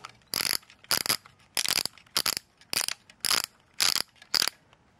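A hand crank winds a Thomas Wooden Railway toy wooden rolling gantry crane, giving eight evenly spaced bursts of close, clicking ratchet rattle about half a second apart, with no talk.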